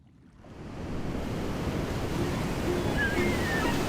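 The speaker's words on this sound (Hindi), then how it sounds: "मुझे समुद्री लहरों की आवाज बेहद पसंद है।" Sea waves and surf in an animated movie fade in within half a second and settle into a steady, full rushing wash of water, broad and continuous with no voices.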